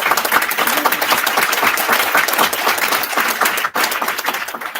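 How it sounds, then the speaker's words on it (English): An audience at an awards celebration applauds board members, loud, dense, continuous clapping filling the room before a brief dip near the end. "If we could have a round of applause for them really quickly."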